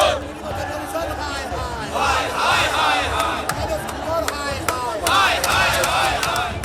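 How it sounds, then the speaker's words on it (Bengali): A crowd at a TMC–BJP political confrontation shouts slogans and counter-slogans, loud and close, with overlapping voices chanting and yelling in continuous rising surges. "চলতে থাকে স্লোগান পাল্টা স্লোগান"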